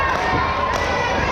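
Professional wrestling crowd at a PPW event cheering and rallying behind Lumberjack Larry, a dense, continuous roar of many voices filling an indoor arena with no break.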